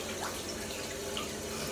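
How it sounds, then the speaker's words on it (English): Shower water runs steadily in a bathroom, a constant broadband hiss and splash held at an even, moderate level throughout, with no talking. "I'm going to do this, jump in the shower"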